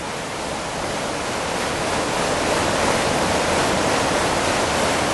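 Water pours over a weir by an old mill in the Peak District, a broad, continuous rushing roar close by that swells slightly and holds steady with no voices.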